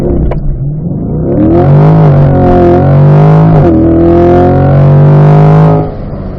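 A car launches hard at full throttle the moment its brake is released, the engine note climbing loud and strained with rising pitch and harsh distortion, holding steady near the microphone before dropping off at the end.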